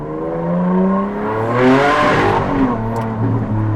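A Ferrari Enzo's V12 hypercar engine revs up loud and close, its pitch climbing smoothly through the gears as the car accelerates, with no talking over it.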